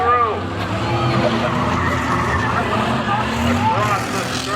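Race cars roar around a figure 8 track at Seekonk Speedway, engines droning continuously with passing pitch sweeps, under an announcer's running commentary.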